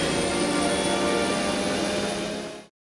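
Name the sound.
remote control plane flying, animated film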